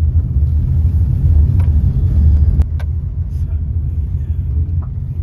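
An Eicher truck drives and turns, giving a steady low engine rumble with a few faint clicks and knocks over it.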